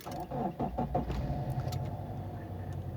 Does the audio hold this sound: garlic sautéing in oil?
no